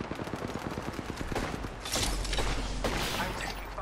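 Rapid bursts of automatic gunfire in Apex Legends, a quick train of sharp shots followed by heavier, louder blasts of fire, close and intense.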